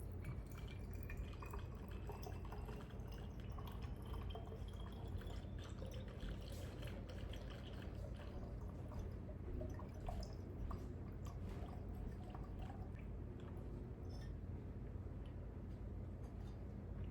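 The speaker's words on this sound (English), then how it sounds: "So I like to use the darker bottles, and then we're just gonna use a little funnel" Echinacea tincture trickles through a small funnel into dark amber glass bottles, a soft continuous dripping and pouring close by with faint glassy clinks, quiet and without speech.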